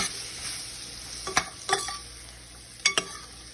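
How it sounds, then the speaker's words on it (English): Squash frying in a pan, with a steady sizzle and a few sharp scraping clacks as the pieces are lifted and flipped, two pairs of strikes heard close up. "I'm just going to stir it once."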